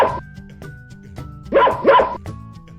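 A dog barks and yips in a short run of sharp, fairly close calls, the two middle barks loudest, heard with no talking.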